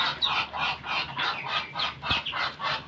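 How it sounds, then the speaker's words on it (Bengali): White Chinese ducks on a duck farm honk and call in a close, rhythmic series of about a dozen repeated nasal bursts, steady and fairly loud with no talking. "সুস্থ সবল হাঁস"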